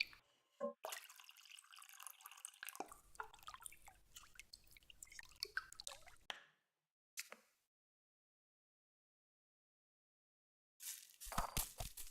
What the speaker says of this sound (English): I'll have to water that now.